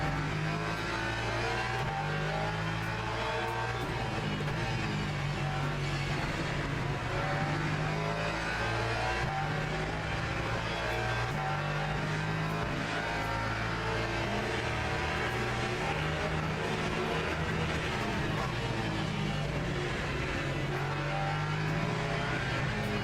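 A hypercar race car in a Qatar racing event sim howls past on the track, its engine note loud and continuous amid other cars droning steadily throughout, with no talk over it.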